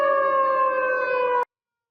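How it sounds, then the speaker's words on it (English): An air raid siren sounds at night in Lipetsk, a loud sustained steady tone with rich overtones that holds for about a second and a half and then cuts off abruptly into silence. "The city woke up at night to the sound of sirens."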